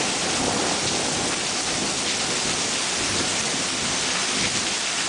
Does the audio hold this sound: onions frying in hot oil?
no